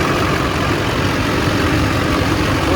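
A GMC Sierra 2500HD pickup with a Duramax diesel and Allison transmission idles in a smooth, steady, even drone that holds at a constant level throughout.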